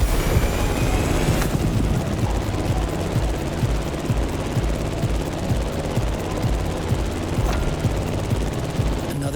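A plane racing through The Crew Motorfest's Ocean 'n Sky event, a steady loud engine drone with rotor-like pulsing throughout, a sharp burst near the start, no voices.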